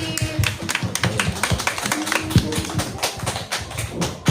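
Small audience clapping at the close of a school storytelling grand final, a steady patter of hand claps throughout, fairly close and without speech.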